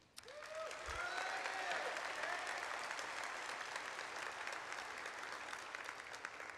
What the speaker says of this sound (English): I'm going to ask you to hold your applause until I get through them all